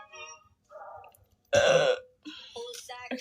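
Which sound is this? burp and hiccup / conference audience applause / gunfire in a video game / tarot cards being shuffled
burp and hiccup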